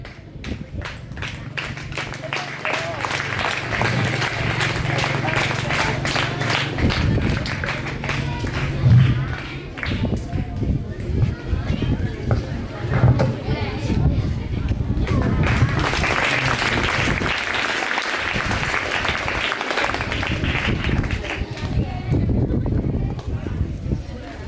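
Steady clapping from an audience at a school Independence Day function, continuing for the whole stretch with crowd noise and speech mixed in.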